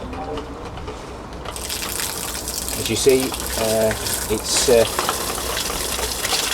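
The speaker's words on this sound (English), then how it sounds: "pumping quite a bit of water, self-priming" A steady rushing gush of water from a solar-powered self-priming pump moving rainwater runs throughout, with someone speaking briefly over it.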